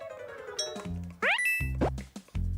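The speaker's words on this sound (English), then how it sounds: "So the bell went." A chiming bell ding from the Hotel Mario video game rings amid bright, synthetic game sound effects with rising boing-like tones. It is crisp and loud, with several distinct hits and no talking.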